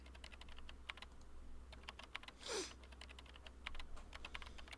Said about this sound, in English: Kunosato-san is sitting with her laptop typing at an incredible speed.